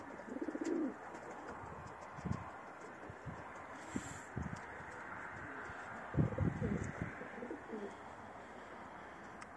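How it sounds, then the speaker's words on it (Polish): Racing pigeons in a backyard aviary coo in low, throaty bursts during pairing season, a couple of close calls standing out over a quiet outdoor background with faint chirps. "tu moje gołębie się teraz parują, gonią się na jajka"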